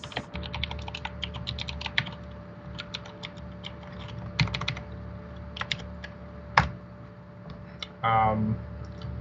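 Bursts of typing on a computer keyboard during a Python coding session, quick clattering runs of keystrokes with pauses between, close and moderately quiet, with a brief voice near the end.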